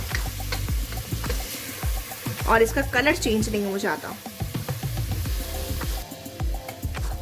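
Minced mutton keema cooking in a pan over a medium-to-low flame, sizzling steadily and stirred now and then, with someone talking over the frying throughout.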